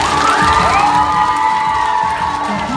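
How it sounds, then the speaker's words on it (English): Children at a Catholic school assembly cheer and shout loudly after a rap performance, a dense excited crowd roar with whoops and some scattered clapping. "Give these guys a round of applause."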